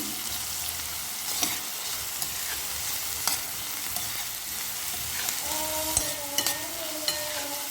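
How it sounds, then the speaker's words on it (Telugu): Sliced onions with curry leaves and salt fry in oil in a pan for mutton keema, giving a steady close sizzle broken by occasional sharp clicks and spoon scrapes. "ఉల్లిపాయలు ఇలా ఫ్రై అయితే సరిపోతుంది"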